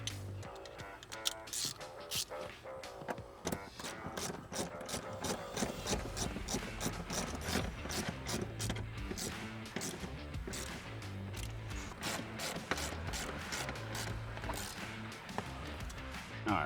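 Ratchet clicking steadily while tightening 14mm bolts on a Z1 Off-Road seat riser Molle panel, a dense run of sharp close ticks over about seventeen seconds with some low background noise.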